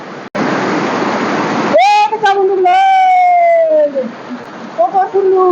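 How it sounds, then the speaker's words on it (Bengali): Waterfall at Sewraguri village roars as a loud, dense rush for under two seconds, then fades to a softer background wash while a voice talks loudly over it. "ঝর্ণার কি সুন্দর আর এবার ওয়াটারফল"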